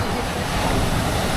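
Strong sea waves at Lemery, Batangas make a loud, continuous roar of surf mixed with buffeting wind noise on the microphone.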